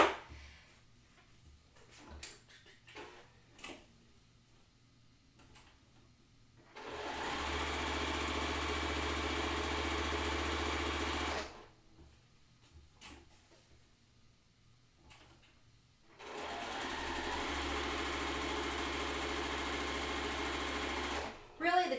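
Sewing machine stitching quilt block pieces in two sustained runs of steady motor hum and rapid needle chatter, each about five seconds, separated by quieter handling sounds and brief speech.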